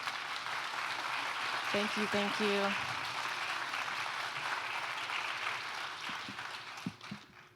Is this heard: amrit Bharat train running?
no